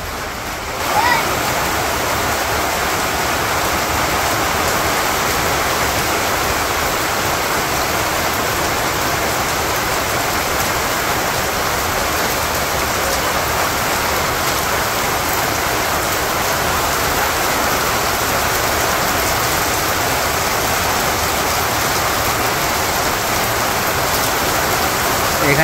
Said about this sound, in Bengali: এই যে বৃষ্টি নেমে গেছে